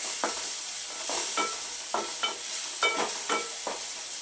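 Chopped tomatoes sautéed with onions in a pan for a quick matki (moth bean) dry curry, with a soft steady sizzle broken by regular spatula scrapes about every half second.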